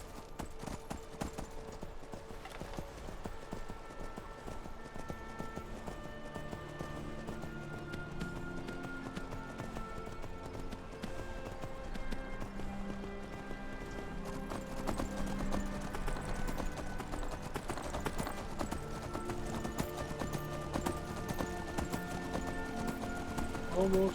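Horse hooves gallop in a steady, rapid clip-clop across a Skyrim Anniversary Edition landscape, running continuously under game music and a voice talking.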